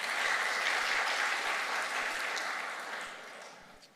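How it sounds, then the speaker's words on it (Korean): Congregation applauding during a Sunday church service in welcome, a warm, even round of clapping that fills the room and then tapers off toward the end, with no talking over it. "환영하겠습니다. 박수하겠습니다."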